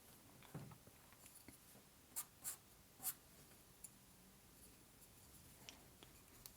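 Faint, scratchy strokes of a 2B charcoal pencil softening a shadow on paper, with a few slightly louder rasps between quiet gaps and no talking.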